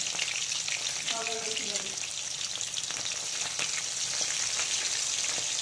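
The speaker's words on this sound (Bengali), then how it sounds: "বন্ধুরা দেখো, এখন ইলিশ মাছ ভাজছি" Hilsa fish sizzles and spits in hot oil in a pan, a steady close frying hiss with crackling throughout.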